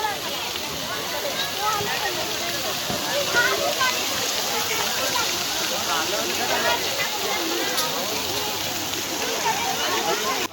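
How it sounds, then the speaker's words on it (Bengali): Waterfall at a temple in Silvassa, a steady broadband rush of falling water filling the whole stretch, with voices faintly present beneath it. "এখানকার ঝর্ণাটা দেখো খুব সুন্দর লাগছিলো ঝর্ণাটা দেখতে"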